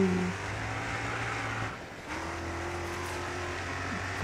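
A race car in GRID Autosport skids with a sustained tonal engine whine, briefly cut off and then resuming with a steady pitch, sounding moderately quiet and close.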